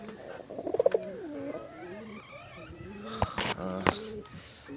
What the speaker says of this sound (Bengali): আর এই যে এটা হচ্ছে আমাদের সাদা কবুতর